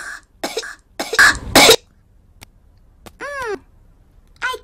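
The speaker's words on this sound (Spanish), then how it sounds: "Después tose." A few short, harsh cartoon coughs close by from Peppa Pig, with a brief squeaky child-like vocal sound following after a pause.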